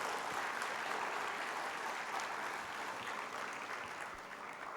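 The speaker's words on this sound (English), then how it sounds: "Guys, can we please have a huge round of applause for Mr." Faint, even applause from an audience at a session, thanking a presenter, continuous and slowly fading toward the end.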